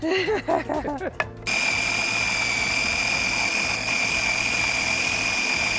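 A blender runs at a steady high whine, grinding basil pesto with coarse stems, garlic, cheese, salt and pepper; it starts abruptly after a brief stretch of talking and then holds loud and constant.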